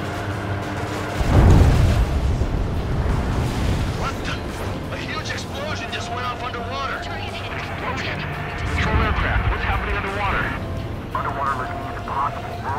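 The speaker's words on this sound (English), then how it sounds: "only hearing explosion echoes" Explosions in the video game Ace Combat 7 during an aerial combat mission, with booming blasts and rumbling echoes, one strong early burst and later bursts, mixed with music and voices talking over the radio.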